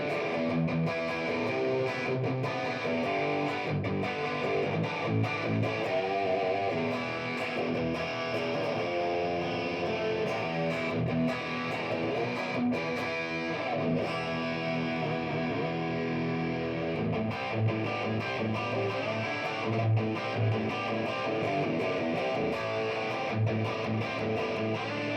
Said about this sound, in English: we put a lot of gain on the signal and see if we hear what we want to hear